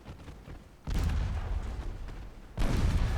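Heavy 5-inch naval guns fire in a video game naval battle, with two loud booming blasts about two seconds apart. Each one is followed by a rumbling roll, and no voices are heard.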